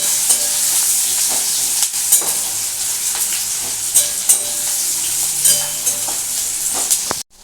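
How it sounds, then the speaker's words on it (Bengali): Steady, close sizzling of onions frying in hot oil, with occasional clinks and stirring scrapes, ending abruptly. "এটাকে এখন একটু আমি ভালো করে একটু ভাজবো"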